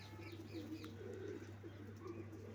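A pigeon coos softly in low, throaty murmurs, with faint chirps of smaller birds in the background.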